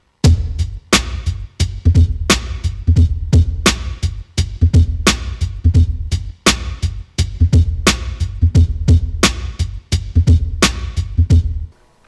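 Chopped, tuned and heavily processed drum loop with punchy kicks and crisp snares in a steady, looping hip-hop rhythm, loud and alone for about twelve seconds.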